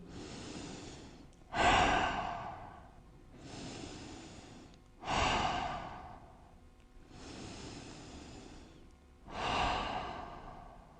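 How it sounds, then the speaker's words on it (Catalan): Deep yoga breathing during a Vinyasa class: three slow, audible exhalations blown out through the mouth, each a breathy rushing puff, evenly spaced with quieter inhales between, close and alone without talk. "des d'aquí fes 3 respiracions"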